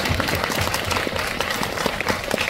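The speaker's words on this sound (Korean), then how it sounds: "박수 부탁드립니다" An audience at a film screening Q&A applauding, a brief burst of dense clapping that stays steady and fairly loud from start to finish.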